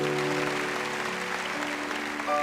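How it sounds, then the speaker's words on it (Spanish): A church congregation gives a loud welcoming round of applause for new members, steady clapping throughout with sustained musical tones underneath. "démosle un fortísimo aplauso de bienvenida."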